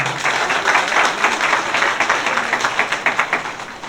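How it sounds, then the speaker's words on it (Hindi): Villagers clapping with both hands to welcome teachers at a village gathering, a dense burst of applause that gradually thins into more distinct, rhythmic claps toward the end. "आप दोनों हाथ से तालियां बजाकर उनका सम्मान करें"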